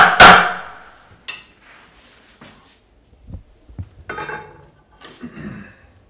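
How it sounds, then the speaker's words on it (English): Several sharp hammer knocks on a fireplace, one loud strike at the start then scattered softer taps and clatters with quiet gaps between them. "we just want to be as gentle as we can while hammering onto something."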